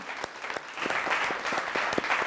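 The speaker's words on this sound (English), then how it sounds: "So round of applause for you." Audience applause greets a director on a talk panel, a steady wash of many hands clapping at moderate volume with a few sharper individual claps standing out, no voices over it.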